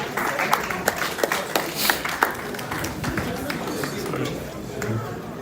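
Scattered, uneven clapping from a conference audience, individual claps standing out over a murmur of chatter and room noise, thinning out toward the end.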